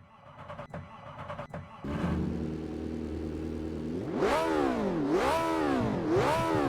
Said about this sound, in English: But let's hear the engine.